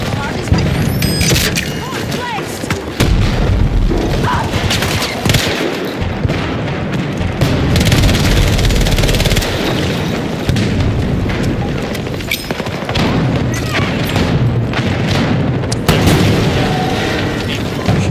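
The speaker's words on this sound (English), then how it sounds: "Grenade outgoing!" Grenades explode in the video game Battlefield 2042, a loud, nearly continuous run of heavy booms mixed with gunfire across the whole stretch, with a voice briefly heard.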